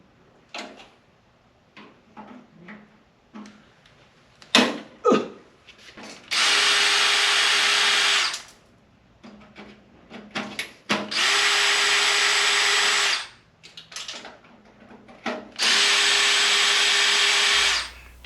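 A power drill backs screws out of a burned metal frame in three long, loud whirring bursts, separated by clicks, knocks and handling noises close by.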